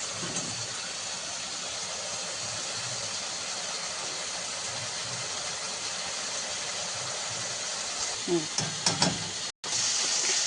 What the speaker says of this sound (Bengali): এবার একটু কষবো।